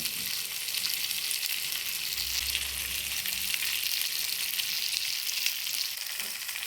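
Fish sizzles steadily in hot oil in a pan, with constant bright crackling and spitting, close and fairly quiet, with no talking.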